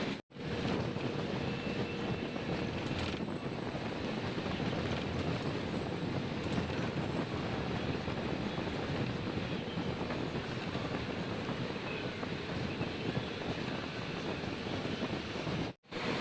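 A TNSTC bus runs along the highway between Coimbatore and Salem, a steady broadband roar of engine, tyres and wind that holds constant for the whole stretch; no talk.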